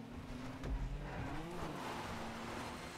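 A car drifts through a rallycross race in GTA Online, its engine humming steadily with faint tire noise and a brief thump early on, all fairly muffled and continuous.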